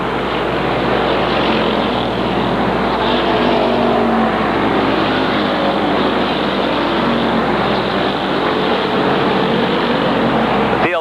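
Late model race cars at the Waterford Speedbowl roar past in a loud, continuous, close engine drone that never lets up across the whole stretch.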